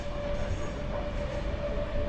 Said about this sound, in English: That train's on its way up to Newcastle.